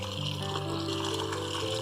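Water being poured into a container to dilute wood ash as a flower booster for adenium plants, a steady close pour with a faint tonal ring throughout, no talking.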